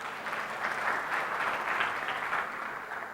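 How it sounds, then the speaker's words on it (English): Audience applause at a conference talk on digital entertainment: a dense, steady wash of clapping that holds level for about three seconds with little talk. "Please give him also the round of applause."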